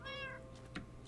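A single short, clear cat meow from a Minecraft cat left at a player's base, followed by faint game clicks and soft background tones, with no talking.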